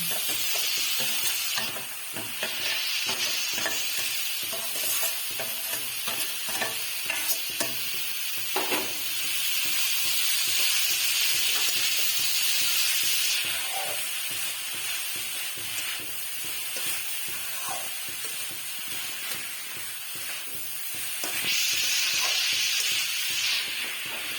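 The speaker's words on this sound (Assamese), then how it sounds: "সানি লোৱা নাৰিকলখিনি কেৰাহীত ভালদৰে ভাজি ল'ম।" Grated coconut mixed with sugar frying in a wok for sooji and coconut laddoos, with a continuous sizzle and hiss under repeated stirring scrapes, close and steady and swelling in bursts, no talking.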